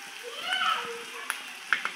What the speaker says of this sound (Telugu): ఉల్లిపాయ ముక్కలు ఫ్రై అయిపోయినాయి